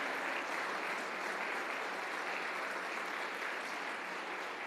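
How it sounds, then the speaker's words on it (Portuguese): Church congregation at a Brazilian Baptist worship service giving a sustained round of applause, an even, full roar of clapping from many people, moderately distant and unbroken. "dê a melhor salva de palmas que você puder para o Senhor"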